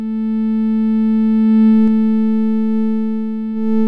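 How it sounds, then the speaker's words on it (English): A continuous low-frequency sine wave tone hums steadily with a faint buzzy edge, interrupted only by a couple of brief clicks. "I used a low frequency sine wave,"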